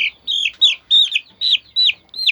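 Young Vorwerk chicken giving a run of about seven high, short peeping chirps in an even rhythm, close and clear against a quiet background.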